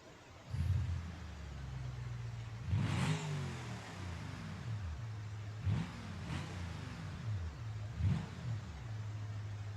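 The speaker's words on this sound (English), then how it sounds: "apparently we have slightly custom engine sounds" Car engine in BeamNG.drive with new custom engine sounds: a mid-pitched motor idles steadily and revs up sharply several times, each rev rising and falling in pitch, close and clear with no talking.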